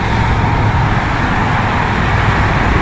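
Loud, constant roar of street traffic near a bus route at night, a dense broadband rumble of passing cars and heavier vehicles with no gaps, heard close up from the roadside.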